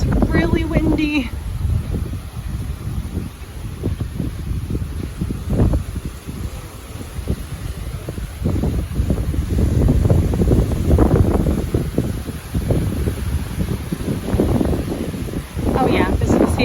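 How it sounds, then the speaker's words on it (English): Strong wind off the Sea of Galilee buffets the microphone in heavy gusts, rumbling and roaring low throughout with little letup. "it's so windy I probably won't talk when I'm down there"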